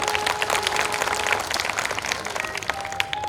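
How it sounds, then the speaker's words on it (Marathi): A crowd at an outdoor Shiv Jayanti festival performance claps in sustained, moderately distant applause, a dense patter with a faint tonal hum beneath. "पटलं तर जोरात टाळी वाजवा एकदा."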